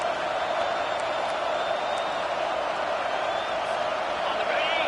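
Home crowd roaring at a football game as the defense tries to get off the field on third down, a steady, dense wash of cheering that holds throughout without a break.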